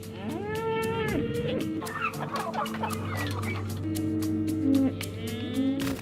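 Chickens clucking among farm livestock, with a cow's low moo joining partway through; steady close clucks and squawks over continuous barnyard background.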